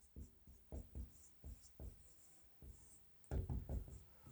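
Chalk or marker writing on a board during a physics lesson, a series of short scratchy strokes and taps in irregular bursts, faint and close with quiet pauses between.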